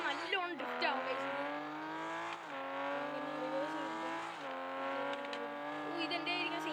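A car drifting in the mobile racing game Drive Zone Online, its engine holding a steady, whining tone that shifts pitch with a few throttle changes. The sound is continuous and up front.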